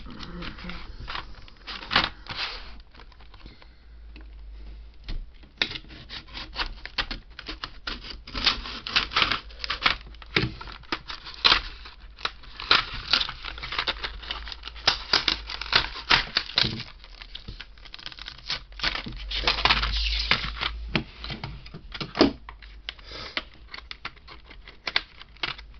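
Packaging around Millennium Falcon model kit parts from Altaya is opened and handled over a cutting board, giving close, irregular crinkling, tearing and tapping noises that carry on for a while.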